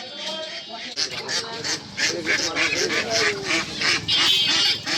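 Ducks and geese for sale at a village livestock market honk and quack in a loud, crowded, continuous chorus close by while people talk over them.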